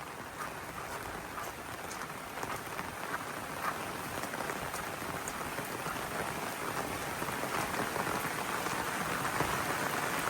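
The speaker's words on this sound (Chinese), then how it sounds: "没想到又下起了暴雨" Heavy rain pours steadily around a wooden hut in the mountains, a dense, even hiss of drops hitting surfaces that holds for the whole stretch with no voices.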